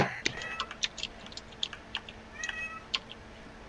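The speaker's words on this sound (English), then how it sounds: "keep meowing" A cat meows several times in short, high calls amid rapid computer keyboard typing and clicks during a PUBG game session, fairly faint and close.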